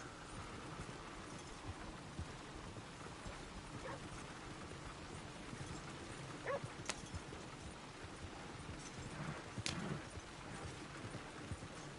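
Horse hooves clip-clop along a road in Red Dead Redemption 2, a soft, faint rhythmic plodding under low ambient noise, with a few sharper knocks standing out.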